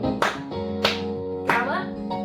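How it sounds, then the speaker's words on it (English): Four sharp hand claps in a children's ballet class, evenly spaced about half a second apart and sounding over steady piano music. "We're going to do 4 big claps."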